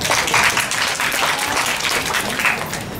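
Welcoming applause from a conference audience at a national e-learning conference greets a presenter, a dense burst of many hands clapping steadily for a few seconds.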